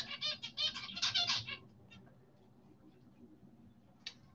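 Small pet birds chatter and chirp loudly in a quick burst indoors, then fall mostly quiet with a single brief call near the end.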